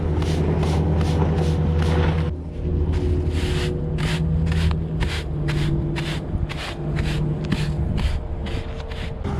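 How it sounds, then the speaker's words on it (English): A hand broom sweeps the edges of a bunker silo, its brisk strokes repeating in a steady rhythm, close and fairly quiet, with no talking. "Just gonna go around with the hand broom, just work it in a little."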